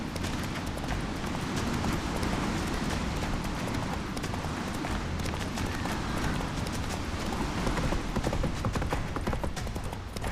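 Roach the horse gallops in The Witcher 3, with rapid, steady hoofbeats pounding close and loud for about ten seconds over a dense game soundscape.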